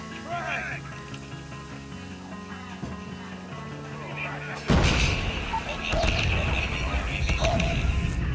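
Call of Duty Mobile gunfire and explosive blasts rumble through a busy battle soundscape, growing louder and denser partway through, with a voice talking over it.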